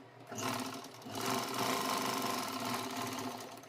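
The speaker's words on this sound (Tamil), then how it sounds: "1/2 இன்ச்சுக்கு தைக்கிறோம்." A sewing machine runs steadily, stitching a half-inch blouse seam at a dart, its motor whirring loud and close in one continuous stretch with a brief dip near the start.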